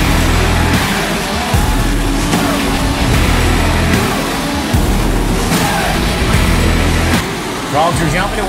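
USAC National Midget Tour race cars circle the Clyde Martin Memorial Speedway dirt track, their engines snarling and surging in repeated waves as they pass, loud and close, with talk running over the racing.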